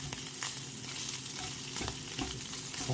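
A BLT panini sizzles and crackles steadily in a hot pan, a continuous close frying hiss with small pops and no voices.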